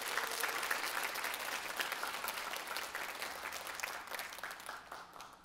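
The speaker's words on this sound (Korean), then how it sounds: "우리 목사님 나오실 때 여러분 환영의 박수 해 주십시오." A congregation at a Thursday women's church worship service claps in welcome, with steady, dense applause from a crowd filling the room throughout.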